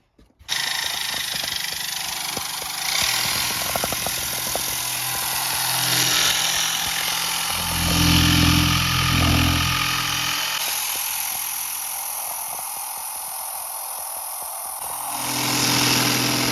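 A power sander works the edges of a wooden arch shelf, a loud continuous whine and broadband roar running nearly throughout, shifting in pitch and pressure as it moves along the wood, with deeper droning stretches midway.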